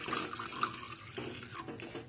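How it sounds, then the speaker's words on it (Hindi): Two cups of water poured into a bowl set on a gas stove for making chai, a close, bubbling splash and trickle of liquid lasting a couple of seconds. "अब हम उसमें 2 कप पानी ऐड कर देंगे।"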